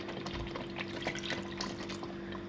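Water pours steadily into thick kadhi pakora batter in a pot, a soft continuous trickle and slosh heard close up over a low background hum.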